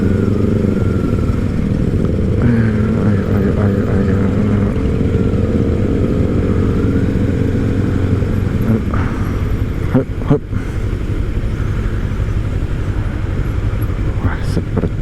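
A BMW sidecar motorcycle rolls past at a Sunday morning ride, its engine a low steady drone under ongoing wind and traffic noise, with a couple of brief clattering knocks midway.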